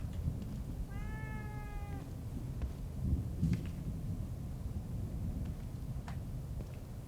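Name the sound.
cat meowing in video game The Evil Within 2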